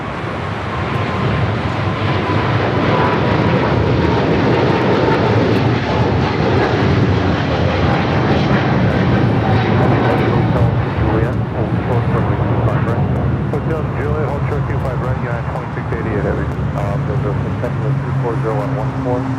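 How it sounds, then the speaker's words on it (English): Turkish Airlines Boeing 777-300ER, flight 180 bound for Istanbul, taking off at LAX: a loud, steady, broadband jet engine roar that holds throughout, with a voice talking over it. "up next, Turkish, the 777-300ER, flight 180,"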